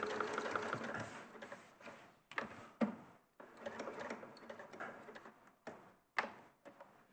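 A sewing machine stitches fabric in a blanket stitch, with pivots between runs. Close, rapid mechanical whirring comes in short bursts separated by brief pauses, with a few clicks and thumps between runs.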